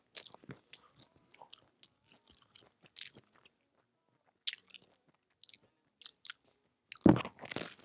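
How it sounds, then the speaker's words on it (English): Biting and chewing a crunchy ham and cheese sandwich close up, with scattered wet crunches and mouth sounds throughout and a loud, dense crunching burst near the end. "Crunchy bread, so we're gonna see how it tastes"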